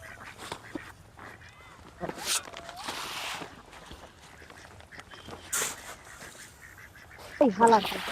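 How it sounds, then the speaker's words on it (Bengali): Ducks quack and honk now and then in short bursts over a pond as they come for feed grain, with a voice talking intermittently in the background. "দেখতে পাচ্ছেন হাঁস চলে আসছে আমাদের আদার দেওয়া দেখে খাওয়ার জন্য, দানা খাওয়ার জন্য চলে আসছে।"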